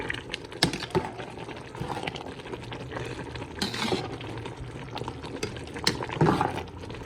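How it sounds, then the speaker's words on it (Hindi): Water bubbling and simmering in a pot of white matar pulao (rice with peas) as it cooks down, a steady close boil with occasional stirring scrapes and louder gurgles, no talking. "अभी जैसे ही इसको सही उबाल आता है, थोड़ा पानी खुश्क होता है"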